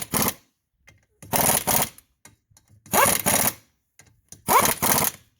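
An impact wrench tightens lug nuts on a Polaris Ranger 570 wheel during a new tire install, firing four short, loud rattling bursts separated by brief pauses, with faint clicks in between.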